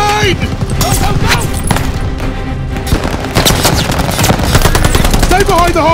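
Sustained machine gun fire in the WWII shooter Call of Duty Vanguard: loud, rapid bursts of gunshots with heavy booms underneath, while soldiers shout over the battle.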